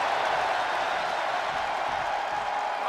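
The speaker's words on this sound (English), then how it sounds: "The sound of this crowd is deafening," A wrestling arena crowd in WWE 2K22 roars with a steady, dense wash of cheering and applause throughout, loud and unbroken.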